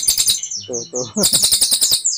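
A songbird used as a masteran tutor for murai batu sings close by: bright, rapid chirps and a short run of lower warbling notes, then a fast burst of sharp repeated tweets, loud and clear with no talk.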